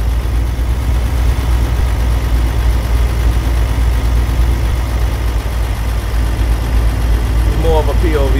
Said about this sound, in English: Off that engine brake.